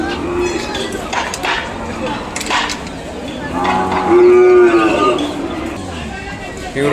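Big Ongole bulls low at a crowded Kodad cattle market, a long deep moo rising over steady crowd chatter, with people talking nearby throughout.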